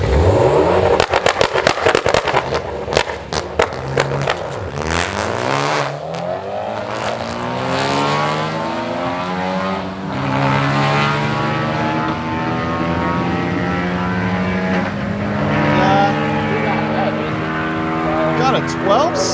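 Stock-turbo, stock-block Mitsubishi Evo X launching down a drag strip, engine note rising and sweeping through gears as it pulls away, loud at first then fading into the distance, with other track noise around.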